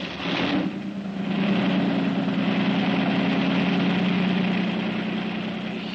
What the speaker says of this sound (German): Ich habe dann die Motoren angelassen.